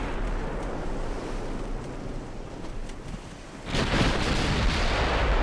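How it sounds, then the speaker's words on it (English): Naval gunfire from warships in the naval strategy game Ultimate Admiral Dreadnoughts, a steady rushing sea-and-wind bed that swells into a loud booming burst of shots near the end, with no talk. "Got more shots going out at their destroyer."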